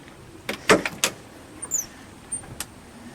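Trunk lid of a gold 1970 Oldsmobile 442 W-30 tribute shut by hand: a couple of light clicks, then a solid close thump, followed by a few softer latch and rattle clicks.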